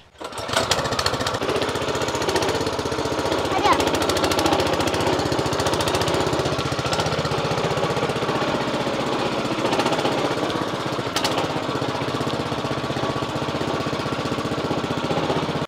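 A mini tractor's small engine runs steadily and loudly throughout, a rough mechanical chugging with no pauses.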